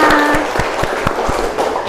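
Classroom applause from pupils, a lively patter of many hands clapping close and loud, thinning slightly toward the end, with a few voices mixed in.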